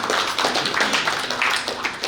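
An audience at a newspaper's anniversary ceremony and election-winners' reception claps loudly and close by, individual hand claps distinct within a brisk, uneven burst.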